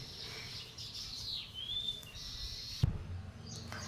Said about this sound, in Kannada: ಪಕ್ಷಿಗಳ ಸೌಂಡ್ ಕೇಳಿಸ್ತಿರ್ಬೋದು ನಿಮಗೆ